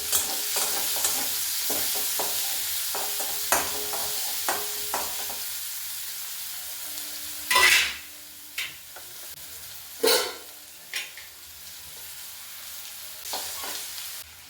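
Garlic cloves and a chopped medium onion frying in oil, a soft steady sizzle with intermittent clanks and scrapes of a spoon stirring the pan, near and without speech.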